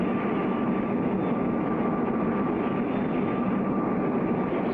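An aircraft flies at speed through a supersonic and nine-G pull-out test flight in a cartoon, a steady loud roaring rush that holds unbroken throughout.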